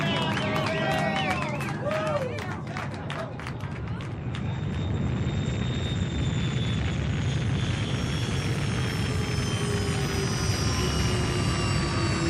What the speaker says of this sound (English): Those are rocket engines.